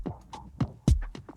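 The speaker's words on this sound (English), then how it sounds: "1 for the kick, 1 for more of a crunchy ticking layer," Layered synthesized drums, a kick with a crunchy ticking layer and hi-hats, built for a driving, urgent game soundtrack, hit in an irregular rhythm of sharp, close percussive pulses with low thumps under bright clicks.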